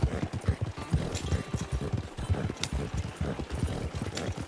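Horse hooves clip-clop in a steady, brisk rhythm in an outdoor hunting video game. The footfalls are close, under a continuous background ambience, and no one speaks.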